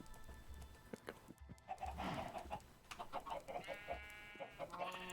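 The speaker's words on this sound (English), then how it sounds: "making a whole bunch of chickens" A flock of chickens in a video game farm clucks repeatedly, overlapping calls and squawks at moderate volume with short pauses, some rising into longer drawn-out notes.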